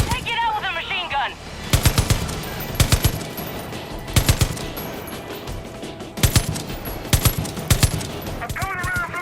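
Machine gun fire in the video game Far Cry 5 comes in repeated short, loud bursts spread evenly through the scene, with a voice heard at the start and again at the end.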